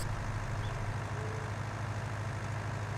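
Tractor engine from Farming Simulator 19 droning steadily with a heavy low rumble, a continuous close engine hum with no breaks or voices.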